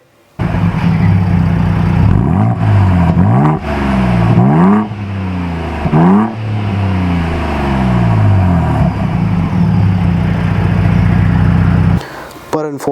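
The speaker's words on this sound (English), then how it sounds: "this does have the active valve exhaust, which does sound pretty good" A 2022 Ford Bronco Raptor's engine revs loudly and repeatedly through its active valve exhaust, each throttle blip rising and falling, then settles into a deep, steady exhaust burble before cutting off.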